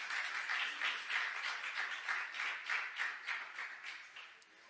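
A church congregation applauds during a worship service, a steady crowd of claps in a loose rhythm that is fairly soft and distant and tapers off at the end.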